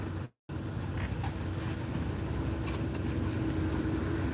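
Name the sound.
dump truck working on road repaving outside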